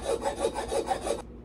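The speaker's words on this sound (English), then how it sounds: "Yes, I am old school with a file." A hand file rasps over the metal surface of an outboard motor mid section in six quick, even back-and-forth strokes, close and fairly quiet, before stopping.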